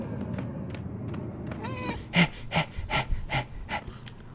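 A cat meows in the video game Murdered: Soul Suspect, with a rising, wavering meow followed by a string of short, sharp bursts over a low game ambience.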